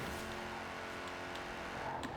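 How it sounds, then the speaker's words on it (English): A car engine in a driving video game drones steadily at moderate level, a continuous hum with faint tire and road noise and no speech. "Nothing better than listening to the sound of the engine"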